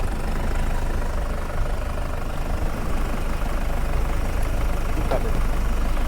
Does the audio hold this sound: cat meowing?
no